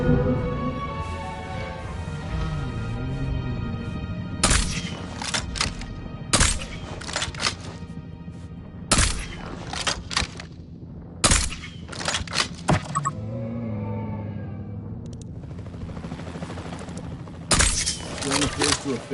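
Tranquilizer gunfire aimed at a dinosaur in Jurassic World Evolution 3 rings out as several sharp, separated cracks over a low game hum, with stretches of speech in between.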